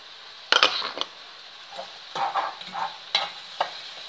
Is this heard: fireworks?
no